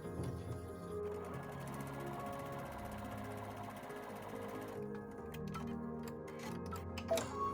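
A sewing machine stitches a quarter inch seam in quilting fabric for a table runner, its rapid rhythmic needle ticking running steadily, then pausing with a few soft clicks and handling sounds.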